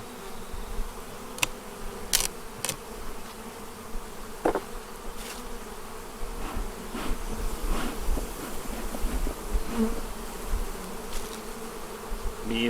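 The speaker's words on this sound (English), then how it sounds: "Bees all up on the lid." Honeybees buzz steadily in an opened hive of a new Ozarks nuc, a close, dense insect drone running throughout, with a few brief knocks and scrapes from handling and no voices.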